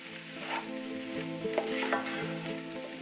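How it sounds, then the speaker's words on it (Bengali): Keto fried rice stirred in a hot pan over raised heat, with continuous sizzling and frying and repeated scraping strokes of a spatula, steady and close. "এখন চুলার আঁচ বাড়িয়ে শুধু নেড়ে চেড়ে নেব।"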